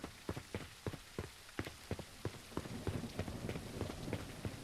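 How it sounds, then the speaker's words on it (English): Rain falls in a zombie video game, a soft steady hiss on surfaces with a run of regular thudding footsteps, faint and distant. "Oh, now it's raining."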